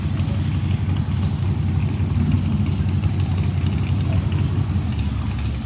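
A 427 big block race car engine runs steadily at close range, a loud, continuous low rumble with no clear revving or speech.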